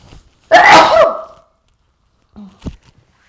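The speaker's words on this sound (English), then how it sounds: "That was a good sneeze." A single loud, close sneeze bursts out in a long noisy blast, then fades, followed a second later by a faint, brief sniff or breath.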